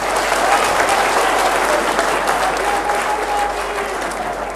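Sustained, loud applause from a large audience at a party workers' political rally in India, dense steady clapping filling the space without a break.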